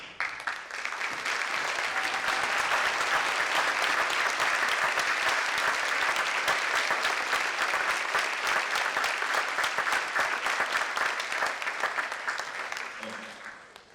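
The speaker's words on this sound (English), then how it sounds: "Can we get a round of applause for those people?" A school audience applauds veterans at a Veterans Day ceremony in a high school, dense sustained clapping that rises quickly, holds steady for several seconds, then thins and fades near the end.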